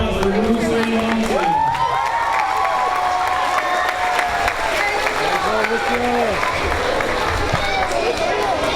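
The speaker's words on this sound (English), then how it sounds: "Big round of applause for Lucy and" A school crowd at a Red Ribbon Rally claps and cheers loudly and continuously, with shouts and whoops rising and falling under a raised voice over the noise.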